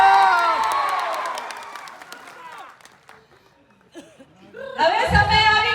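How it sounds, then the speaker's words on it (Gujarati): Loud crowd applause and cheering break out at a political rally in Sankheda, Gujarat, rising suddenly near the end after a stretch of speech from the stage. "જોરદાર તાળી"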